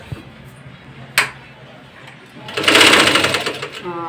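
A tailor's sewing machine starts up again after a fault, running in a steady rapid stitching burst for the last second and a half, preceded by a couple of sharp clicks and a quiet pause.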